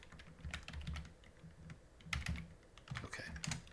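Keys on a computer keyboard clatter in irregular bursts of quick taps, close and fairly quiet, with short pauses between flurries during a Haskell coding session.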